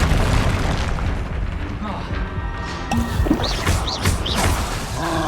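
Confringo blasting spell in Hogwarts Legacy, a loud explosive boom at the start followed by crackling bursts, chimes and busy combat effects.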